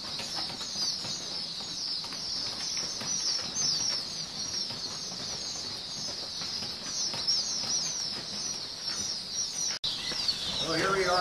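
Young pheasant chicks about three weeks old in a rearing pen, giving a steady dense chorus of high chirps and peeps throughout, close and continuous.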